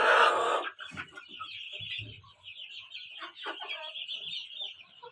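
Chickens clucking and calling on a small farm, a dense burst at the start followed by scattered clucks and a steady high chatter of birds throughout.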